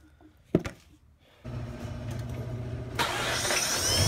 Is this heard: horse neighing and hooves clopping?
no